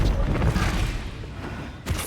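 Bombarda spell explosion in the wizarding game Hogwarts Legacy: a loud, heavy boom that fills the start, then fades into a rumbling tail, followed by a short, sharp hit near the end.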